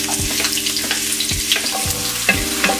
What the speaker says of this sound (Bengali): তেলটা গরম করার পর আমি এর মধ্যে পেঁয়াজ দিয়ে দিলাম